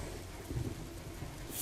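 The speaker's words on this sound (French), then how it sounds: "Je dois attendre que... qu'il y ait un orage." A thunderstorm at a castle in the video game A Plague Tale: Innocence: a dense, steady rain hiss with low rolling rumble underneath, heard alone without speech.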